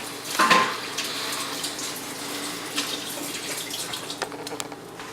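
A kitchen tap runs in a steady hiss while a table knife is rinsed under it, with a brief splashy burst near the start as the blade meets the stream; no one speaks.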